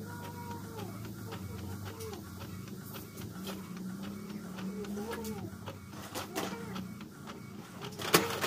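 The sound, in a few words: printer printing a sticker layout on coupon bond paper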